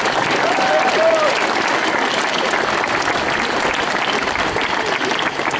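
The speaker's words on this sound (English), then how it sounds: "clap for them as well" A crowd at a 2011 senior football championship final applauds the match officials with dense, steady clapping that fills the whole stretch at a loud, even level, and a couple of short whistle-like tones sound near the start.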